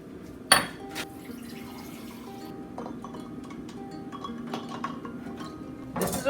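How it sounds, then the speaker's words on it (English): Cooked eggs dropped into a bowl of ice water in a kitchen, giving a few sharp clinks and splashes followed by faint sloshing and rattling of ice. "Put the eggs into the ice water immediately so that the cooking"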